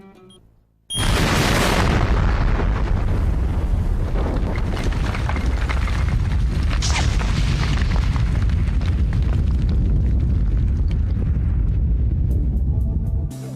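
A large battlefield explosion from front-line firing erupts suddenly after a near-silent moment, then a loud, sustained rumbling roar that fills the rest of the span without pause.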